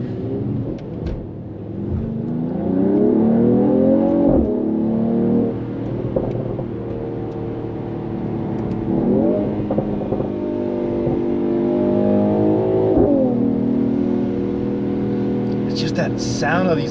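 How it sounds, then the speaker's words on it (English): Mercedes-Benz GT53 engine in Sport Plus mode on a rainy drive, a steady rising and falling drone with revs swinging during downshifts, faint crackles and pops sitting under the engine note, with someone talking over it. "you can just hear those crackles and pops when it starts downshifting"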